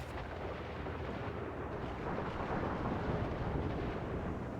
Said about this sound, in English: those storms out there are crazy